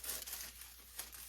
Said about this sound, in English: A plastic bag. I put the trivet in here